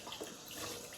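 Cold water running from a tap into a sink during a wet shave, a steady broadband splashing stream lasting about a second with no voices.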